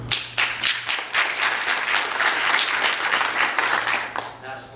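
A roomful of people claps together at a crowdfunding talk, loud, dense applause that swells and holds for several seconds before tapering off at the end.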